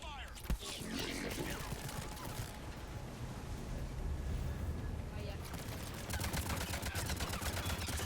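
Sustained gunfire in a sci-fi shooter firefight, rapid bursts and impacts running through the whole stretch, fairly loud, with voices and game effects mixed in underneath.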